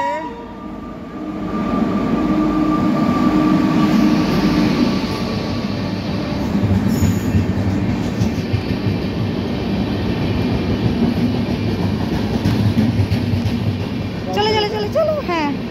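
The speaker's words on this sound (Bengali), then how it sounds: "ট্রেন চলে এসছে।" Shatabdi Express train arriving at a station platform, a loud steady rumble and rolling roar of carriages sustained throughout, with brief squeals near the end and a voice speaking over it.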